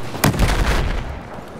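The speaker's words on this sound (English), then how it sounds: "Did you get any splash from the old cannon?" A single loud cannon blast in Battlefield 4 during a boat fight, with a sharp boom that rolls off into a short rumbling decay and nothing else around it.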